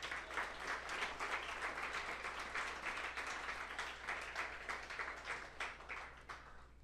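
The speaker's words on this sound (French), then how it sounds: "On peut les applaudir eux aussi." An audience applauds the event team, a dense, steady round of clapping that carries on for several seconds before tapering slightly at the end, with no voices over it.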